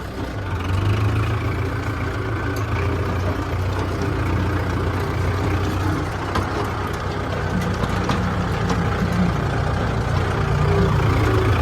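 A steady, low diesel engine of a Kubota MU4501 tractor idles continuously at close range, a constant rumbling drone with no change in speed or any voices.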